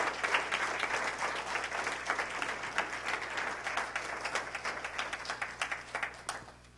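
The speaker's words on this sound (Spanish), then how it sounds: "Vamos a dar un aplauso al Señor por nuestras ofrendas" A church congregation gives a sustained round of applause after the offering, dense and steady at first, then thinning and fading out near the end.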